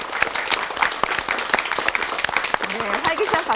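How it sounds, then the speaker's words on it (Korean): A Christian TV studio audience of churchgoers claps to welcome a pastor, crisp individual claps at moderate volume with someone talking over them. "활기찬 박수를 성도님들 함께 해주셨습니다"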